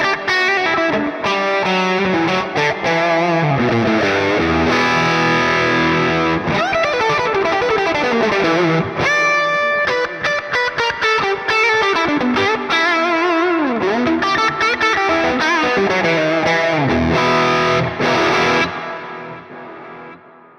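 Heavily distorted electric guitar played through the Neural DSP Archetype Gojira amp plugin with the drive turned up, dense palm-muted chugs and ringing chords in a continuous loud riff, then fading out at the end.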